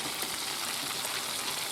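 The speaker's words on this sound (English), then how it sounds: "frying this up in some oil, well not some, a lot of oil, and basically you're deep frying it really" Fish deep frying in a large amount of oil, a dense continuous crackling sizzle, close and steady throughout the short stretch, with no talk.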